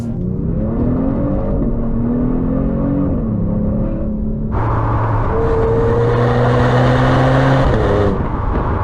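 A 2022 Genesis G70 engine revving through paddle-shift downshifts from inside the cabin, a steady drone that jumps sharply louder and higher midway, holds, then eases off near the end, no talk.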